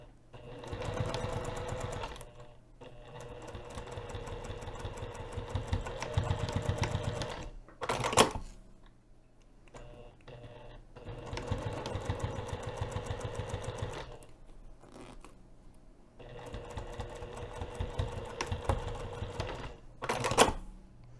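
Sewing machine top stitching a hinged zipper bag pocket at a lengthened 3.5 mm stitch, running in several long steady bursts of rapid needle chatter with short pauses and sharp clicks between runs.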